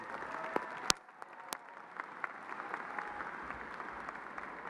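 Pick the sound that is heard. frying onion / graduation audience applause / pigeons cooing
graduation audience applause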